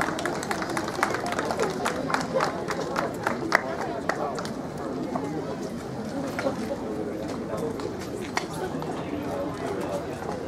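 Steady crowd clapping at an outdoor harvest festival parade, mixed with chatter and clip-clopping horses, with talk over it throughout.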